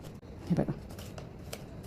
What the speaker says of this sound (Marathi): जरा जाड मास्किंग टेप घेतला इकडे आणि इकडे दोन्हीकडे आणि तो इथे आता लावत आहे मी